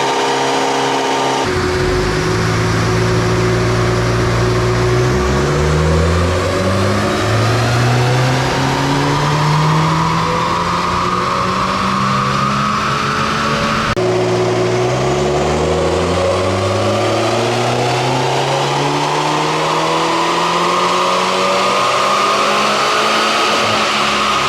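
Peugeot 208 GTI engine on a dyno, revving hard through rising gear pulls, loud and close. A steady whine runs underneath, and two long sweeping runs climb and surge with no talking.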